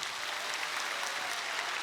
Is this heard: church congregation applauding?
yes